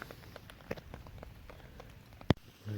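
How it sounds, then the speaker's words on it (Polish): Light rain pattering on a tent at a summer forest camp in Puszcza Notecka, a faint steady patter of scattered drops with one sharper close tap. "Jeszcze trochę deszczu kropi"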